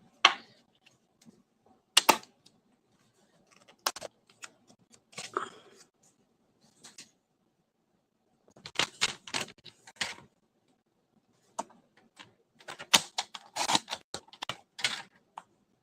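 Paper being cut for a handmade holiday card, short crisp snips and rustles in scattered clusters separated by silence, close and fairly quiet.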